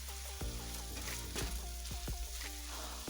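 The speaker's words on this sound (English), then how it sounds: "I'm just gonna give it a nice stir" Fajita vegetables sizzle steadily in a hot pan, with a spoon scraping and stirring through them in repeated close strokes over a continuous frying hiss.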